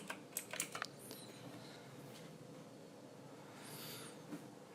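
Rapid typing on a computer keyboard during a Visual Studio Code setup on Windows 10, a quick burst of close key clicks that trails into faint room hiss.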